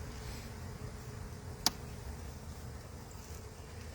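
Honey bees buzzing around an open hive, a faint steady insect drone under low background rumble, broken once by a sharp single click.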